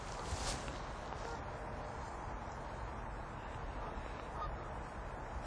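Ducks and geese honking and quacking on an open common, a steady outdoor bed of wildfowl calls with wind, no talk over it.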